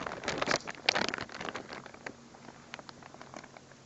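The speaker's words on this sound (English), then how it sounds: "And it's raining right now." Soft, irregular patter of rain on a pea pod tent shelter overhead, denser at first and then thinning to scattered drips and taps, with no voices.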